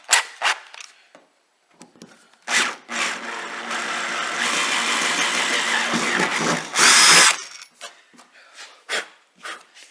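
Power drill boring out a 5.5 mm rivet while fitting a wheel arch extension flare on a Nissan Navara NP300, a sustained close whine of about four seconds with a brief higher screech at the end, framed by short taps and handling clicks.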